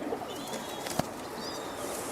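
A pigeon coos softly among a pair of prized high-flyer Giribaz pigeons, a few low murmuring notes over steady background hiss, with a single sharp knock partway through.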